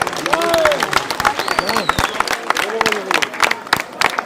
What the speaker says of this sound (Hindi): एक बार जोरदार तालियां अपने लिए बजाओ भाई